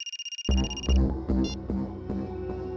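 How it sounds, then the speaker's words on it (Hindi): A phone rings in a short electronic trill in the Indian TV crime series CID, then cuts off as a burst of loud dramatic music takes over. "तभी विशाल को फोन आया।"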